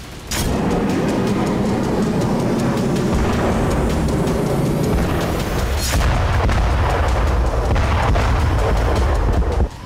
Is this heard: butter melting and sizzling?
no